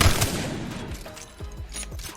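A Wingman pistol in a shooter game fires a handful of sharp shots, spaced a fraction of a second apart, moderately loud against a quiet background with no talking.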